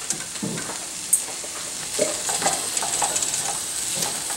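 Fingerling potatoes sizzle steadily in a hot pan while a utensil stirs them, with a few scraping clinks and one sharp knock near the start, moderately close and with no talk.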